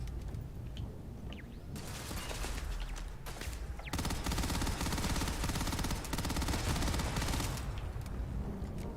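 A turret in Starfield fires sustained bursts of rapid automatic gunfire, a dense crackling barrage that starts and stops in long stretches at moderate loudness, with no voices.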